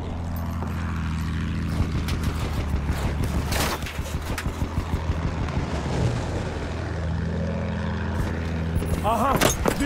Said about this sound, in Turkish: Düşman bombardıman tayyaresi!